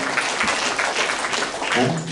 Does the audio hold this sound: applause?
yes